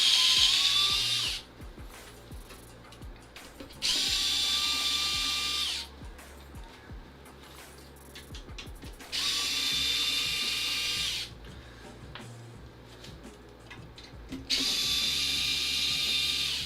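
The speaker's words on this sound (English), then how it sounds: "One of the best decisions I ever made was to buy this electric screwdriver." An electric screwdriver backs screws out of a Panzer fight stick case, running in four steady whirring bursts of a few seconds each. Short quiet gaps between the bursts carry light handling clicks, all close and fairly loud.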